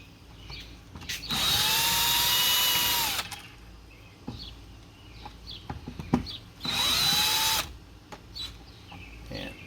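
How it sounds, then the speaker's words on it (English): A power drill whines steadily in two separate bursts, each a couple of seconds long, while unscrewing the screws of an electrical switch and receptacle, with small handling clicks and rattles in between. "with the power off, we're just going to unscrew"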